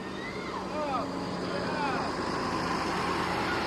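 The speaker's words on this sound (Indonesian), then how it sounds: "Ini bus yang pulang dari Pulau Jawa" A bus pulls out of an Indonesian bus terminal during the busy post-Lebaran return rush. Its engine rumbles steadily and close by, with horn-like tonal sweeps and traffic noise around it.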